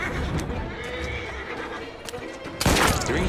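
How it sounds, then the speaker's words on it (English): A mare being ridden at a walk gives a loud, close neigh near the end, after steady background noise and soft hoofbeats. "Who's a good horse?"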